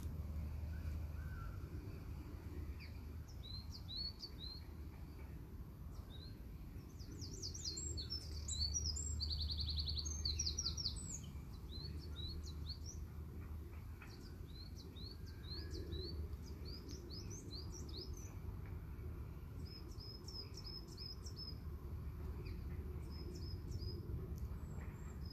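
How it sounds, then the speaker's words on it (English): Birds chirp and tweet in short, scattered bursts over a quiet outdoor background, with no talking. "Certainly very relaxing just here, listening to the birds."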